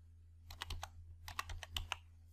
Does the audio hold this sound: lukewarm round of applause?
no